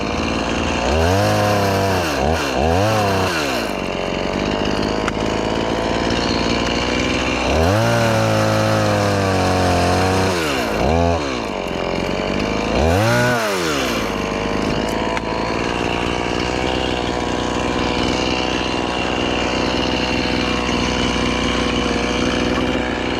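A chainsaw cuts limbs off a big tree, its engine revving up and down in several loud rising bursts, then running at a steady, continuous drone.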